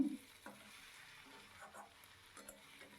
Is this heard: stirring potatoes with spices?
yes